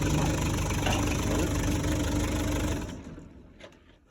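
A John Deere 9750 combine's engine runs with a steady, loud, rumbling drone for nearly three seconds, then drops away and quiets toward the end.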